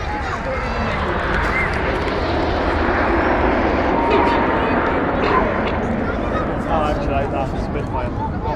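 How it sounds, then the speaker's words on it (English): A Supermarine Spitfire fighter plane flies past at the Sunderland International Air Show, its loud piston engine roaring steadily throughout while a commentator talks over it on the public address. "Here we go for the Spitfire."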